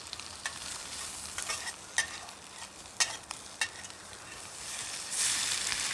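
Two eggs frying on a small solo wood gasifier stove, a soft steady sizzle with scattered pops and crackles, and a brighter hiss swelling near the end; no talking.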